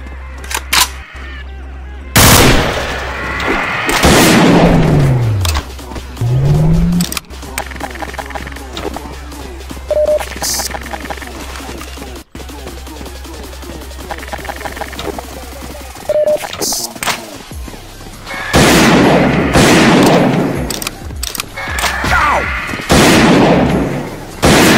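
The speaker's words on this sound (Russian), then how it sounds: "тут есть бах с двойным дробовиком? Как берет перезарядку, там можно несколько раз выстрелить во время перезарядки." Double-barreled shotgun blasts from the Garry's Mod Zombie Survival game, several loud sharp shots in quick bursts including rapid fire during reload, mixed with in-game effects and a voice talking over parts.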